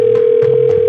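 A telephone dial tone plays as a loud, steady, unbroken tone for about a second, with faint regular pulses sounding beneath it.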